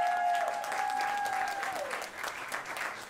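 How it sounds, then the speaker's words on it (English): Brief audience applause for a guest at an outdoor holiday market event, moderate clapping from a small crowd, fading slightly toward the end, with a faint tone ringing over it early on. "Give her a round of applause."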